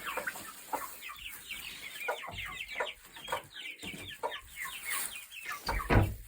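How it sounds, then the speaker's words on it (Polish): Several young chickens cluck and chatter in quick, overlapping bursts, fairly close and busy throughout. "To są moje kurczaczki."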